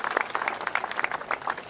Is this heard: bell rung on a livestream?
no